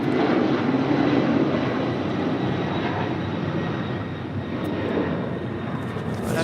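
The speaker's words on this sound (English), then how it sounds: "That is a former All Nippon Airways 767, 39 years old." Former All Nippon Airways Boeing 767, a 39-year-old jet at LAX, gives a steady, moderately loud engine rumble and whine that holds evenly throughout, with no voices over it.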